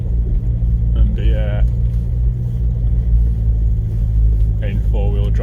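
Land Rover Freelander Td4 diesel working off-road through an icy quarry track in Derbyshire, a loud steady low engine and road rumble throughout, with short bursts of voices chattering over it.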